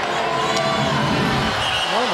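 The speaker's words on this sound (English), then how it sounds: "All the fans booing on this" Volleyball fans in an arena during a Hawaii versus BYU men's match, a sustained loud crowd roar with booing and shouting filling the space, commentary voices talking over it.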